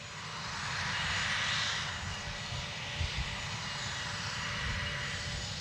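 A Fairchild A-10 Warthog's engines roar as a steady, loud drone that swells and fades slightly, with no one talking.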